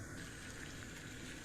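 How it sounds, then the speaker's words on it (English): Water at a raging boil in a pot for macaroni, a steady dense rushing and bubbling roar that stays constant and close throughout with no pauses. "now that our water is at a raging boil"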